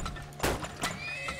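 Horses in the oil-drilling game Turmoil whinny twice in quick succession, close and clear, with faint hoof clip-clops and a light game soundtrack underneath.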